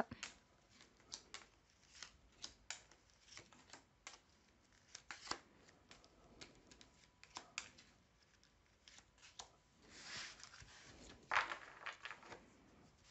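Tarot cards are shuffled for a nine-card spread, giving quiet, irregular riffling and soft flicking taps with short rustling bursts throughout, close and faint, with no talking.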